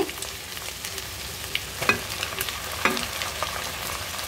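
Prawns stir-fry in a pan, a steady close sizzle broken by a few sharp clicks and scrapes of stirring, heard with no talk.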